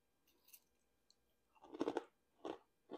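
Crunchy ranch-flavored roasted chickpeas being chewed close up, a soft bite followed by a few loud crisp crunches in quick bursts, with no talking.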